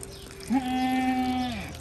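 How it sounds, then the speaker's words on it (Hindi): A single goat of a six-toothed herd on a farm lets out one loud, sustained bleat lasting about a second, close by, over faint background noise. "ये सारी 6 दांत बकरियां हैं।"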